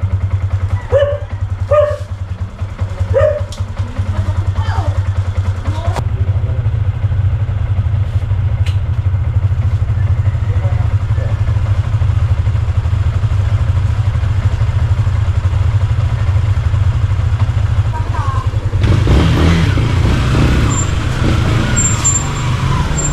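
A new motorcycle's engine runs steadily underneath a short ride, a continuous low hum that swells louder near the end, with a few brief sounds early on.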